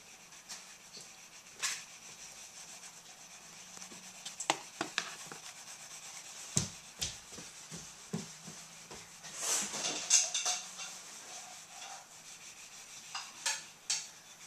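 A pencil sketching on paper in quick, scratchy strokes with soft rubbing sounds and scattered taps, faint and close, with no talking.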